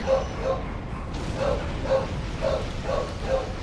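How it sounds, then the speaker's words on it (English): Dogs barking indoors in a home, a series of about seven evenly spaced, moderately distant barks over a steady background hum. "My dogs know I'm doing something that does not involve them, and therefore they must bark."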